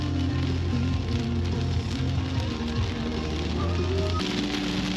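Steady rain drumming on a car while travelling to Tagaytay, a dense continuous patter over a low engine hum that stays even throughout.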